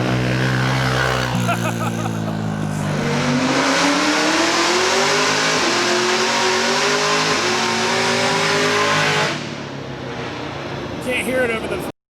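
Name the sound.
car engine revving on a dyno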